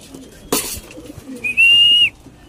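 A racing pigeon arrives at its loft during a training flight, with a sharp flutter or clatter early on and then a clear sustained whistle-like tone, close and fairly loud, in an otherwise quiet setting.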